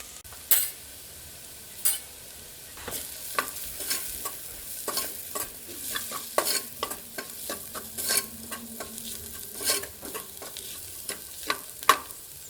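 Coriander powder and chili powder sizzle gently in a pan for an egg curry while a spoon stirs and scrapes repeatedly, with sharp clinks against the metal over a faint frying hiss, no voices.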